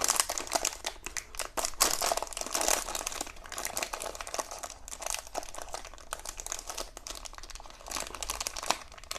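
The plastic wrapper of an Eti Popkek bitter chocolate cake crinkles and crackles close up as it is opened, a steady run of quiet rustles and crisp snaps with no voices.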